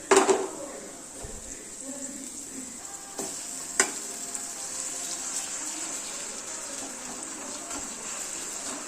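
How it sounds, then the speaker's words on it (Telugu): Ginger garlic paste frying in hot oil for a chicken fry, giving a steady soft sizzle with occasional sharper crackles and the clink of a stirring spoon. "అల్లం వెల్లుల్లి ఇలా నూనెలో వేగితే చాలా రుచిగా ఉంటుంది"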